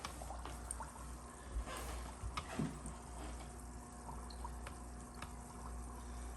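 Water trickles and pours faintly into an aquaponics grow bed, draining back through small grates beside a center fill spout, with a low steady pump hum beneath and a few soft drips.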